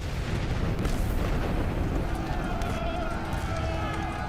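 World War I artillery fire rumbles around an Allied headquarters, a dense, continuous low roar of distant booms rolling without pause, with a voice speaking over it.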